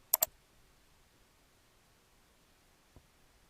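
Mouse clicking on a Publish button, two quick sharp clicks close together near the start and one faint click a few seconds later, in an otherwise silent room.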